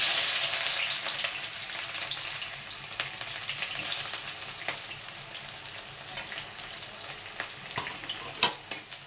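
Onions frying in a pan with a steady, continuous sizzle, the pan likely also holding bay leaf, with occasional light clicks and a couple of sharper knocks near the end; no voices.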